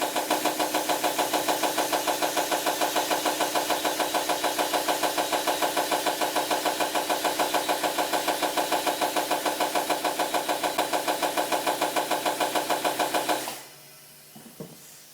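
Tire inflated with air on a Hunter TC 3700 tire machine, a loud, rapid, steady pulsing of the air compressor that runs evenly for about thirteen seconds, then cuts off, followed by faint clicks.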